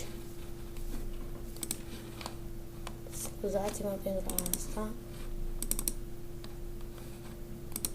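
Rapid clattering keystrokes on a computer keyboard while a message is typed during a Minecraft session, in short bursts under a steady background hum, with a person speaking briefly over it.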